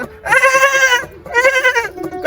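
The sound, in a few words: voice imitating a goat bleating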